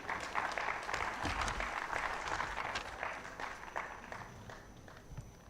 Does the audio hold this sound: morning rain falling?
no